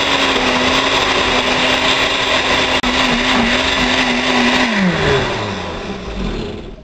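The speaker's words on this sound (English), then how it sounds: "if you have an ice crush mode on your blender" A blender crushes ice for lemonade, a loud steady motor whir with rattling ice that holds for several seconds, then the motor pitch drops and winds down near the end.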